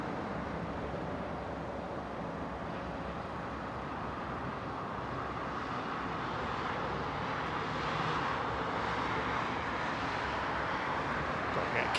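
A Korean Air Boeing 747 rolls down the runway at London Heathrow on a long, fast takeoff, its jet engines a broad steady roar that swells gradually and stays loud throughout.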